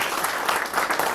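Audience applause at a poetry tribute gathering at the Vishva Hindi Academy: a short, dense burst of many hands clapping steadily throughout, fairly close and even in loudness.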